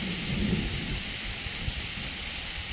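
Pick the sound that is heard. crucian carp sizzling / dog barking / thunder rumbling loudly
thunder rumbling loudly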